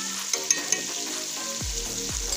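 Chicken with yogurt sizzles and fries in a pan for Pakistani village-style potato chicken korma, a steady close hiss with a few sharp spatters and stirring scrapes, no talking.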